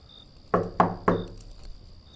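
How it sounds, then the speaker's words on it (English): Three sharp knocks on a door in a horror story, spaced evenly and fairly close, followed by a faint quiet tail. "Another set of knocks came, slower this time,"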